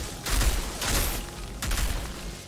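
A Technomancer turret in the Outriders video game fires bursts of gunfire in the Colosseum, three dense noisy volleys close by in fairly quick succession.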